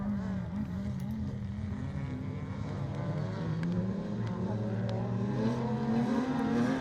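Retro rallycross cars race across a loose surface at a 2019 British Rallycross round, their engines a continuous, fairly loud roar whose pitch wavers and climbs as they accelerate.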